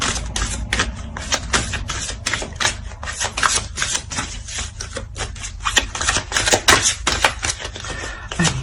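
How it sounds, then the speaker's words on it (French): Tarot cards handled and laid down on a table during a reading, a steady run of crisp papery flicks, slaps and rubs, fairly close and continuous, with no voice over them. "Je vais rajouter une carte."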